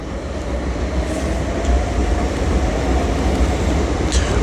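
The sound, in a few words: Class 465 train arriving at London Bridge station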